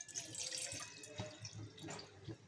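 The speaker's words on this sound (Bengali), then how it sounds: "500 ml মতো জল নিয়ে নেব" Water runs steadily into a pot, a continuous splashing stream with faint dripping, close and fairly quiet with no talk.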